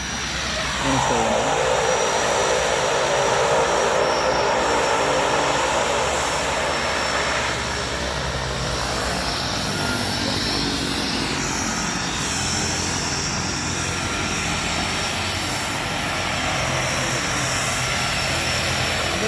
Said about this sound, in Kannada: ಇರೋ ಸಣ್ಣ ATR ವಿಮಾನಗಳು